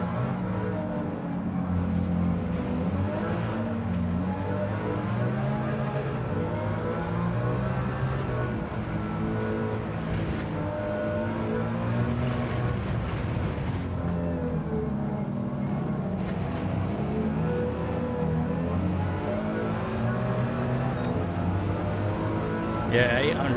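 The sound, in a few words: race car engines in the video game Forza Horizon 5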